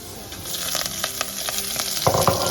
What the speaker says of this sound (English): Adding my garlic is really intense, that's what we want.